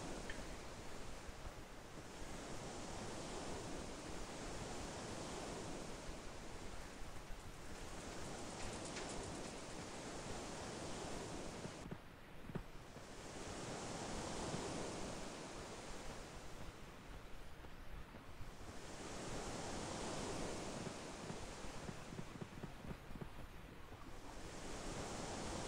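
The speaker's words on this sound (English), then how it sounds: "that water splashing up against the shore sound is" Looping surf from the game Project 1999 (EverQuest): waves wash against the shore in broad swells every few seconds, a steady, fairly quiet rushing roar with no voices.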